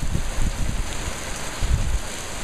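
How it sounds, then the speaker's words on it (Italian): Heavy rain and gusting wind from a storm at night in Corsico beat on a concrete floor, a loud broadband roar with buffeting low rumbles, steady and with no voices. "Osservate la violenza delle gocce d'acqua che si frangono sull'impiantito di cemento."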